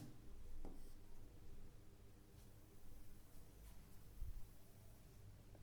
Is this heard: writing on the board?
yes